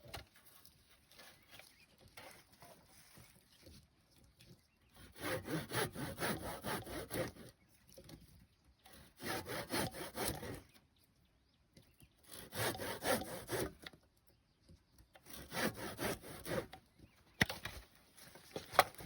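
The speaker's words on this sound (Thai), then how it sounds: "ก็เอาเลื่อยตัด" A hand saw cuts through wood in four separate bursts of rasping back-and-forth strokes, close and clear, with quiet gaps between them and faint birds in the background.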